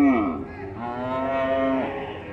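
Cattle at a traditional livestock fair in São Bento do Una, Pernambuco, let out a long, loud moo close by, rising and then falling away, with faint crowd noise behind.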